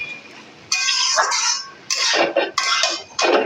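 Papaya and potato curry stirred with sugar in a pot produces loud, close bursts of metallic scraping and clinking. The stirring comes in four separate strokes with short quiet gaps between them.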